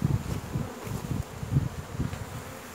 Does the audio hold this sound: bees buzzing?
yes